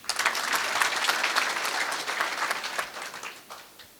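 An audience at a motivational lecture breaks into applause on cue, a burst of dense clapping that swells quickly, holds for a few seconds and then tapers off into scattered claps.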